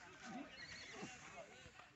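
At a horse race gathering in Assam, a horse gives faint whinnies and neighs amid people talking, with a few hoof clip-clops, all quiet and somewhat distant.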